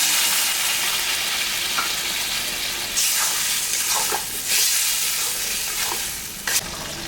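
Small mixed-fish curry in a pan sizzles steadily after spice-rinsing water is poured in, with a few stirring scrapes and brief splashy bursts over a constant hiss; no talking.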